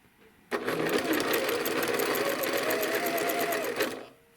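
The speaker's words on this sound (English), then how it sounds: "take 3 stitches, stop with the needle down" A sewing machine runs steadily for about three and a half seconds while stitching a quilt block, making a close, even whirring hum with fast rhythmic ticks of the needle. It starts abruptly and then stops.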